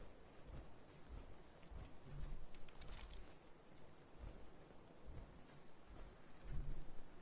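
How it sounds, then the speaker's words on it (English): Steady rain hiss in the Fallout 4 wasteland, constant and fairly loud throughout, with low rumbling thumps and swells that suggest distant thunder. "Hope this rain lets up soon."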